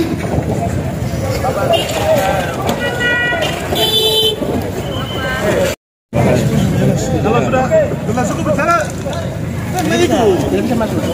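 Cars, including a Toyota Hilux, edge through a dense crowd of supporters at a political volunteer inauguration; a short horn toot sounds amid loud, constant crowd babble, with people shouting and talking throughout.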